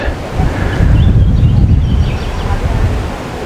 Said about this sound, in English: The wind's getting up too.